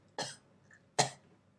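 Two short, harsh coughs about a second apart, close to the microphone in an otherwise quiet room.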